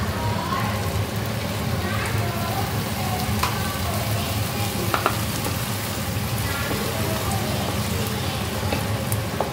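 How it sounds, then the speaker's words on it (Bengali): Onion fries in hot oil with a steady, close crackling sizzle that runs unbroken throughout, with scattered sharper pops. "আর এখানে আমি পেঁয়াজটা ভাজছি"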